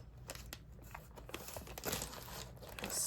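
Scissors cutting along the edge of a soft plastic shipping mailer, close crinkling and crackling of the packaging with small snips, steady and fairly quiet, no voices.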